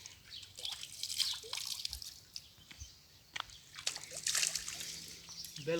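At a natural spring in Saudi Arabia, cold, clear water trickles and drips close by, with irregular splashes and gurgles, soft and intermittent over a quiet background.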